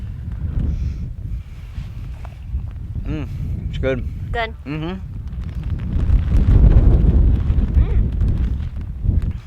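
Strong wind buffets the microphone at a mountain campsite, a loud low rumble that builds and gusts harder toward the end, with people talking over it.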